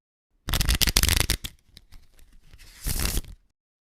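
A deck of collectible trading cards is riffled and shuffled up close: a loud, rapid flurry of card flicks, a looser patter, then a second riffle burst, with no talking.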